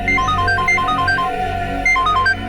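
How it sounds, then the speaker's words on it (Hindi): A phone rings unanswered in a Hindi television drama scene, a repeating electronic ringtone pattern of short high beeps over a dense music and room background. "ये फोन क्यों नहीं उठा रहे?"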